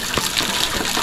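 Water gushing steadily from an outdoor bath fountain in St Thomas, a continuous broadband splash and rush that stays fairly loud and even throughout, with no talking over it.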